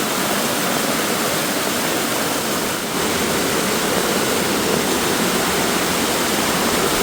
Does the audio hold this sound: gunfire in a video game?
no